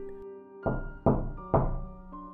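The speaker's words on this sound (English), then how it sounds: "3 soft, evenly paced knocks just like before" Three soft, evenly spaced knocks on a front door, each a dull thud with a short decay, over a faint steady hum.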